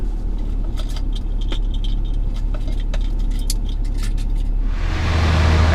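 Keys jangle and clink in short bursts over a steady low engine rumble from a propane delivery truck idling nearby, the rumble swelling louder near the end.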